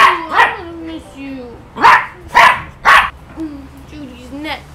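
Pet dogs bark in a series of sharp, loud close barks, about five bursts mixed with whines and yips, while someone talks to them in between.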